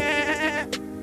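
A goat bleat played through a smart speaker, one sustained, wavering cry with a tremulous, nasal quality, close and fairly loud.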